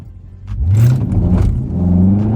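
A Dodge Charger accelerates hard from close by, its engine rising into a loud climbing roar that holds through to the end, with no talking.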